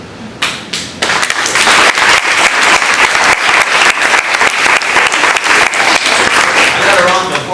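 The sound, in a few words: audience applause at keynote address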